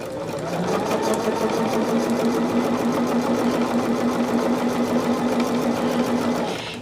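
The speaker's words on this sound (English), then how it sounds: "I'm going to chain stitch these together." Sewing machine chain stitching jelly roll quilt pieces together, a steady close whirring hum with a fast even rhythm that runs for about six seconds and then stops.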